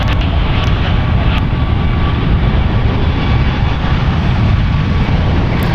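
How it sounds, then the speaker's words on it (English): A United Airlines Boeing 737 MAX 9, three years old, departing San Francisco International Airport, a loud, steady broadband jet roar heard from outside, continuous and without voices. "Departing is United Airlines Flight 2051 going to Vancouver, Canada. It's a Boeing 737 MAX 9, 3 years old."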